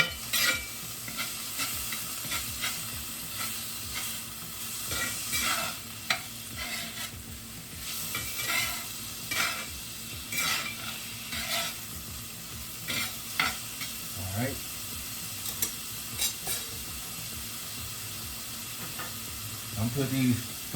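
Beef frying in a pan, a dense continuous close sizzle with frequent scraping stirs and occasional clanks throughout, with no clear talking.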